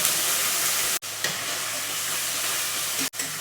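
Onion-ginger paste and spices fry in a pan for potol chingri, giving a steady, dense sizzling hiss close to the pan, broken twice by brief drops, with no talking.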